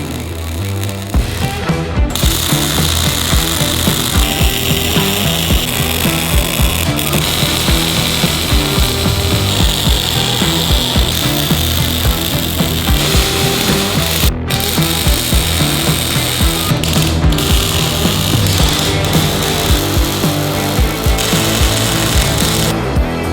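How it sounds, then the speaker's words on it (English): MIG welding on a steel travel trailer frame gives a loud, steady, crackling buzz that runs almost without a break, close up and alone, with only a couple of very brief gaps. "We got good penetration, good wire speed, so everything should weld up really nicely."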